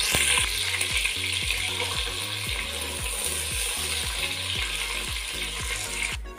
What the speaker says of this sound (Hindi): प्याज को लाइट ब्राउन कर लेंगे।